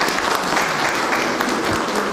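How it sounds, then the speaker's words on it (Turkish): Steady, loud applause from the crowd at a public assembly honouring the village headman, a continuous, even roar of many clapping hands heard alone, with no talking. "Muhtara bir alkış"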